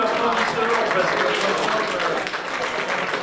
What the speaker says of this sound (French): Vous pouvez leur mettre un gros coup d'applaudissements